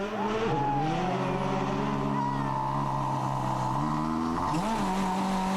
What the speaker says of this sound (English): Manfred Stoll is next into the stage in his OMV Peugeot